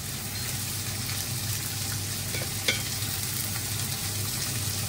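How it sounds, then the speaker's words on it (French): Courgettes fry in olive oil in a smoking-hot pan, producing a continuous, even hiss of sizzling with a single brief clink near the middle and no voices. "On y jette nos courgettes. On va leur donner un tout petit peu de couleur."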